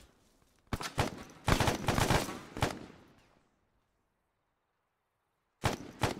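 Bursts of gunfire in Arma 3: several loud volleys of rapid shots, a pause of near silence for a couple of seconds, then another burst near the end.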